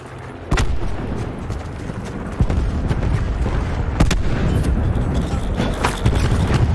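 A grenade goes off in Call of Duty Black Ops 4's Blackout squad mode, heard as a few sharp booms and thuds over a continuous rumbling game din with scattered impacts.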